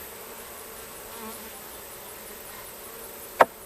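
Honey bees buzzing steadily around the bottom of a hive box, a continuous close insect hum with one brief sharp knock near the end.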